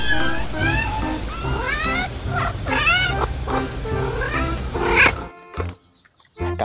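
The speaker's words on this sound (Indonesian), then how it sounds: "ternyata ini kucing" Loud, repeated cat meows with rising and falling pitch, several in quick succession, close by, ending abruptly into near silence.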